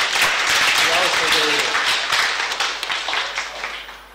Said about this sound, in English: applause for the winner.